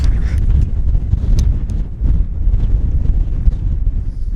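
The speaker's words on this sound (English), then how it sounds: "It's so windy though and cold." Strong, cold wind buffets the microphone on the summit of Scafell Pike, England's highest mountain, as a constant loud low roar with gusty rumbling and no speech.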